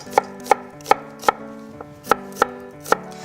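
Cheongyang chili peppers cut into large pieces with a knife on a board: eight crisp, evenly spaced chops, close and clear, ringing briefly after each stroke, with no one speaking.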